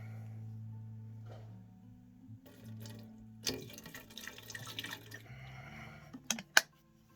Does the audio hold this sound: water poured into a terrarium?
yes